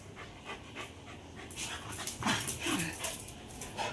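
Dogs play-fight, a mix of aspin and shih tzu, panting heavily with quick breaths, soft whimpers and small yips as they tussle close by.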